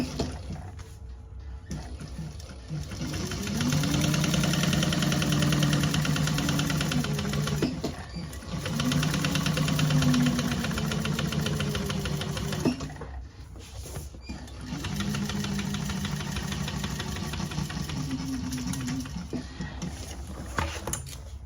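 A sewing machine top stitches the seams of a handmade tote bag, pushing them toward the bottom. Three steady, close whirring runs of several seconds each are separated by short pauses, with no talking.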